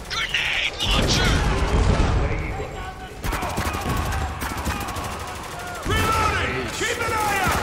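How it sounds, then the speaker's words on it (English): Rapid gunfire and explosive bursts from a grenade launcher fill a chaotic battle in the shooter game Spec Ops: The Line, loud and continuous with overlapping shots and crashes. "Grenade launcher!"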